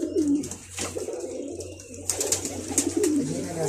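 Pigeons coo softly in a loft, a few rolling low calls rising and falling near the start and again toward the end over a steady low hum, with no talk.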